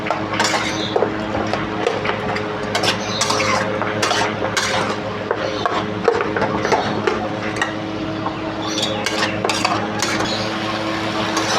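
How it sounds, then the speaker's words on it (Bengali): Mutton curry being stirred and fried in a pan, with a metal spoon clinking and scraping against the pan in busy, continuous strokes over a low sizzle, close and fairly loud. "সব কিছু দিয়ে ভালো করে কষতে থাকবো"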